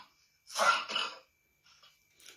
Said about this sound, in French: Petit, faut pas tousser